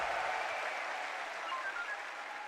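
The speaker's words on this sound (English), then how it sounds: "An eruption from the crowd there" An esports arena crowd at a BLAST Premier event roaring and applauding, a dense wash of cheering and clapping that starts loud and eases slightly, with no single voice standing out.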